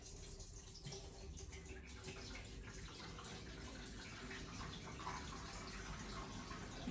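Non-brewed vinegar acid, about 5% strength, is poured into a container while restoring a BSA C15 motorbike, making a faint, steady liquid trickle and splash that runs continuously with no speech.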